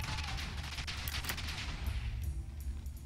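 Underwater TNT-style explosion set off in modded Minecraft, a dense rumbling burst of low booms and crackling blasts filling the whole stretch at steady loudness, with no talking.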